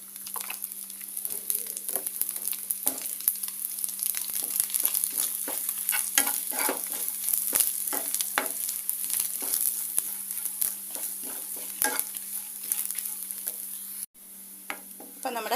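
Grated coconut, chilli and drumstick leaves fry and crackle steadily in oil, with dense close sizzling and repeated stirring scrapes throughout, no speech over it.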